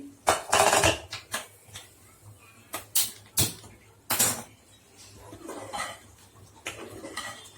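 Metal clanks and clinks of a pot lid being lifted off a pot of curry, several sharp knocks spaced out, followed by quieter scraping and faint rustle.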